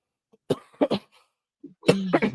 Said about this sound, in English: had a little cough in my chest